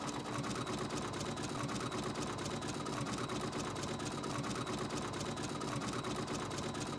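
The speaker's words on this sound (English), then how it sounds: "it's just going to start the embroidery" Embroidery machine stitching an appliqué placement line for a quilted pillow, a steady continuous mechanical whir with rapid needle chatter, running alone at an even level throughout.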